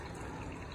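Fresh watermelon juice pours into a glass in one brief, steady, soft liquid stream, quiet and close with no voices.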